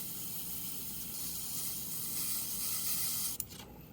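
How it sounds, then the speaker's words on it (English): Steady airy hiss of a spray bottle misting India ink on Claybord continuously, close by, ending with a brief click and a short burst near the end. "by just spraying on it again"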